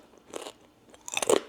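Homemade high-protein lentil crackers are crunched close up in two bursts, a short bite followed by a louder, crisper series of crunches.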